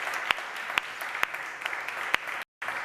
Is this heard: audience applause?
yes